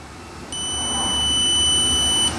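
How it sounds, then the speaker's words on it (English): A stud finder sends out a continuous high electronic tone lasting nearly two seconds as it detects something behind a wall. It is clear and close and stops abruptly. "that the detector has found something behind it."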